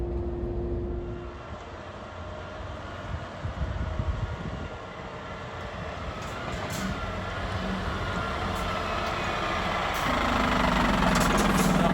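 A Scania G 410 concrete mixer truck running on compressed natural gas drives along, its engine giving a steady low drone that builds slightly toward the end, with no talk over it.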